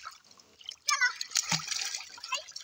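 A child splashing in a pond while bathing for the first time: soft water sloshes and splatters close by, mixed with a voice and an adult talking.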